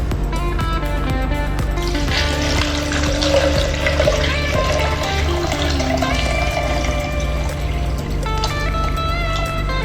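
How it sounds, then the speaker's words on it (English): Water gushes loudly and steadily into the tank of a cryolipolysis fat-freezing machine, a constant rushing pour with faint tonal hum underneath. "Now we inject the water."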